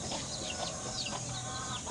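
Shamo chickens on a backyard farm give soft, scattered clucks and short calls among steady background noise, fairly faint and close with no voices.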